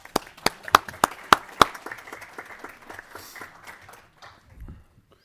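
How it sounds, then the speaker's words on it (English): Claps ring out in a state House local government committee room to welcome a young page, opening with loud individual claps that thin into scattered, fading applause before quiet returns. "give him a round of applause"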